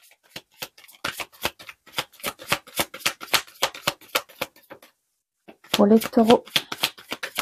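Tarot cards are shuffled in a rapid run of crisp riffling clicks, with a brief pause before a louder burst of handling as a final card is drawn, while someone speaks briefly.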